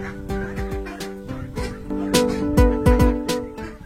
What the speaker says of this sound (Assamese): ইয়াতে বোলে 150টা নতুনকৈ হাঁহ পালন কৰি আছে চাওক